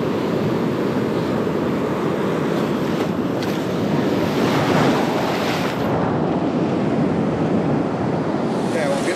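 Pacific Ocean surf breaking on rocks along the shore, a loud, steady broadband roar with continuous wash and wind buffeting the microphone, no pauses throughout.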